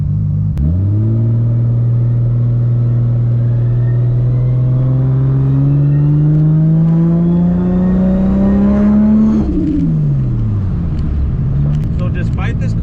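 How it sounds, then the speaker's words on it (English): A 1000+ whp MKIV Toyota Supra engine with a big turbo, loud and close, revving in a long steady climb with turbo whine rising over the drone, then dropping off and pulling again. "Maybe he'll like the turbo sounds."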